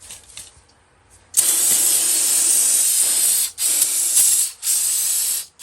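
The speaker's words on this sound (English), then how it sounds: "We're gonna spray this gunk out of there." Aerosol parts cleaner hisses out of a can onto an engine oil pan surface in three long, loud, close bursts with short breaks, following a quieter stretch of faint handling noise.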